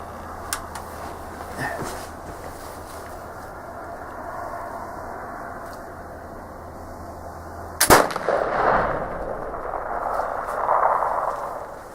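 A Traditions flintlock rifle loaded with 777 powder fires once with a sharp, loud crack and rumbling report, set in steady outdoor background noise with a second muffled thump following.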